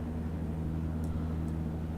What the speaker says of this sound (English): So, we can hear some planes somewhere.